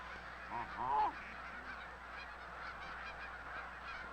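Canada geese honk in a short burst of several calls near the start, then fade into a steady outdoor background with no talk.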